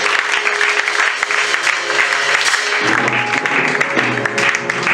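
A church congregation at a Sunday worship service claps and cheers for Jesus, dense sustained applause and shouts filling the hall while music carries underneath.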